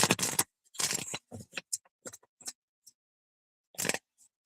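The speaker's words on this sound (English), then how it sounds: "They say you shuffle the card 7 times, it will have it completely shuffled." A deck of playing cards being shuffled by hand, heard as several separate dry riffling bursts with short pauses between them, close and fairly quiet, with no talking.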